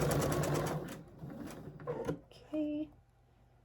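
A sewing machine stitches a batik quilt piece, whirring in quick steady bursts for about a second, then pausing and running again more briefly, with someone talking between the runs.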